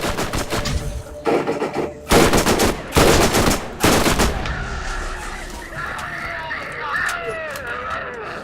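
Thumper gun firing in Borderlands, a few loud bursts of shots in the first half, then quieter game ambience with chirps and tones and no talk.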